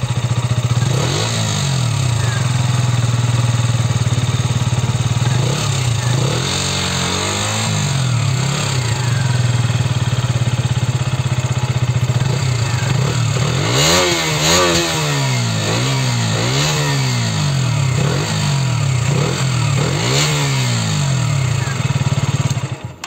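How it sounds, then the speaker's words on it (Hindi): A KTM Duke 125 motorcycle with 28,000 km on it sits close by with its exhaust idling, then gets revved repeatedly in quick rising and falling bursts, loud and continuous throughout. "चलिए गाइस मैं इसका एग्जॉस्ट सुनाता हूँ, उसके बाद मैं राइड करूंगा"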